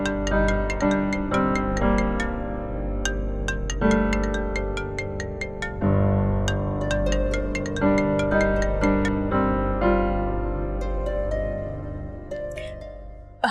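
A mobile phone plays a loud melodic ringtone, a repeating electronic tune of bright chiming notes heard alone for over ten seconds.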